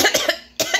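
Two sharp coughs, close and loud, separated by a brief silence.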